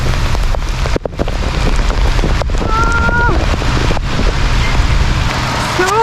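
A heavy downpour drums loudly and without pause during a rural cycling trip, with a thick wash of rain and wind buffeting the microphone.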